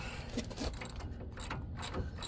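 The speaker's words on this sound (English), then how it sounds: "I'm going to just take this nut off" Ratchet wrench loosening a nut on the suspension of a 1997 Dodge Ram Van B2500, rapid close clicking of the pawl in quick bursts against a steady background.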